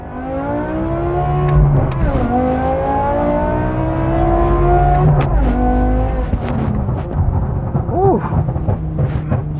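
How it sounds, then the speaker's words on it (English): A 2007 BMW M6's loud exhaust roars as the engine revs and climbs through gears, pitch sweeping upward with brief shifts and crackles, close by. "That exhaust crackle is intoxicating."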